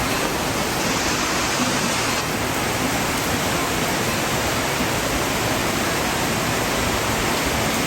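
Tropical rain pours down in a steady, dense hiss that fills the whole stretch without a break, loud and close, with no voices over it.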